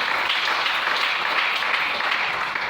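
A church congregation claps together in praise of the Lord, a dense, steady wash of applause that stays loud and even from start to finish, with no one talking.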